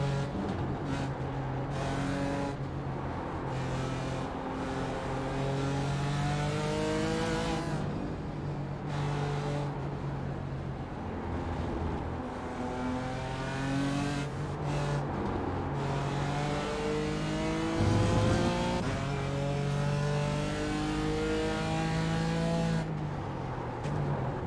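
BMW M4 GT4 race car engine at Lime Rock in iRacing, a loud close engine revving up and down through repeated gear changes over a long stretch, with occasional drops as it shifts.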